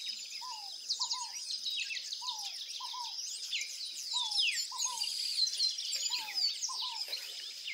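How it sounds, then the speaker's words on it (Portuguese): Scaled doves (fogo-pagou) sing from an open-air backyard aviary, repeated short paired coos at a moderate distance, with faint insect and other bird chirps in the background. "Fogo pagou, tá cantando agora."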